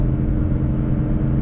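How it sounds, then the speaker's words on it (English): A Toyota Land Cruiser 300 towing a load in normal drive mode drops down a couple of gears, its engine holding a steady low rumble heard from inside the cabin, with no talking. "So it's going to punch down a couple of gears to hold it."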